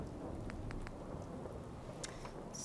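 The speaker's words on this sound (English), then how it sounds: "And I know it's raining" Steady rain falls in Fallout 4 during a settlement build at Somerville Place, a constant wash of patter with a few brief higher drips and ticks standing out. The rain holds even and fairly soft throughout, and nobody speaks.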